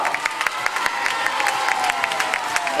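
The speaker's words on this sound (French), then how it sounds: "On les applaudit, s'il vous plaît, très fort!" A carnival show audience gives a burst of applause, dense rapid clapping mixed with crowd noise and a little cheering, loud and continuous throughout.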